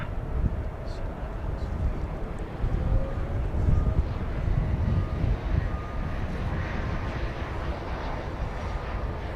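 An American Airlines jet takes off at DFW Airport with a broad, rushing engine roar that builds and holds, mixed with wind buffeting the microphone. A voice talks over the noise at times.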